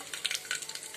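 Mustard seeds hit hot oil for a soybean pulao, after cashews were fried, giving a brief, dense crackling sizzle with small popping bursts, close and steady.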